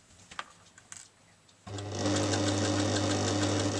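A sewing machine stitches through heavy denim jeans fabric for a large tote bag, starting after a quiet pause with a few soft handling clicks, then running steadily and loudly in a continuous close whir.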